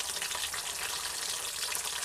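Brinjal curry with shrimp fries in a pan, giving a steady, soft hissing sizzle throughout, fairly quiet and unbroken.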